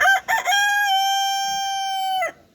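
A rooster crows once nearby, a loud, sustained cock-a-doodle-doo with a couple of short opening notes followed by a long held tone that cuts off sharply.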